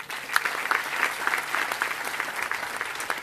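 An audience at a community gathering claps in a brief burst of dense, even applause, close and fairly loud throughout, with no one speaking over it.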